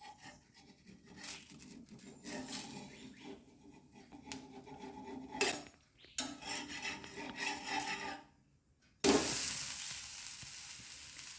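A jackfruit dish frying in oil over a high flame, with close steady sizzling and scraping rustles that rise and fall, a brief near-silent gap, then a louder, denser hiss of fresh oil, no voices.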